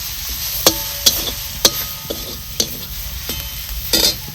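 A village-style gulvel (giloy) leaf bhaji being stir-fried in a pan, a close, steady sizzle punctuated by about six sharp spatula knocks against the pan at irregular intervals, with no talking.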